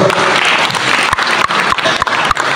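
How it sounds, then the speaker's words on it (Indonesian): A hall full of Banyuwangi Islamic religious counselors breaking into loud, sustained applause, dense clapping close by with a few sharper individual claps standing out. "Tepuk tangan untuk teman-teman."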